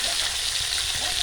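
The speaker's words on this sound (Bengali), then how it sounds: "এই মাছটা খুব কড়া করে ভাজতে হয়" Snakehead (shol) fish frying crisp in a pan gives a steady, close broadband sizzle with faint crackle throughout, with no voices over it.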